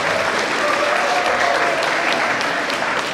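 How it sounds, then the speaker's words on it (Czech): A short burst of steady audience applause for a school headmaster at an end-of-year school academy evening, even clapping from a full hall with no talking. "Zasloužený potlesk panu řediteli Alexandrovi Petrščenku."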